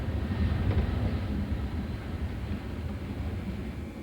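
A passenger train runs through Wales toward Newport and Cardiff, heard as a steady low rumble and rattle of wheels on rails with a constant droning hum.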